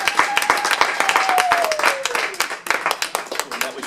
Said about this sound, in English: I think a big round of applause for Harry.